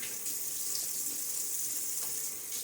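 Tap water runs steadily into a sink to wet a shaving lather, a continuous close hiss and splash that stays alone for a few seconds.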